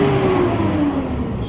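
A Mitsubishi Strada pickup engine with a low-power fault and check-engine light revs high, with a loud, close mechanical whine that drifts slowly downward over a brief stretch, with no voices.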